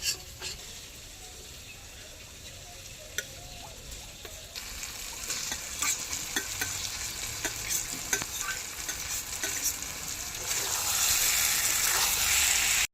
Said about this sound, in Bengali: মশলার সাথে কিছু সময় আমি কষিয়ে নিয়েছি আলু আর ফুলকপি